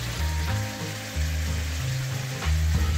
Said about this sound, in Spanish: procedemos a sellar o sofreír dos pechugas cortadas en trocitos